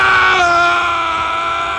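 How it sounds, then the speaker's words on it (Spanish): A loud, sustained scream, used as a sound effect in a Spanish audiobook of Disney's Mulan, rings out close and alone, slowly falling in pitch and fading slightly over almost two seconds. "oyó un grito que provenía de la zona del valle que el alud había arrasado"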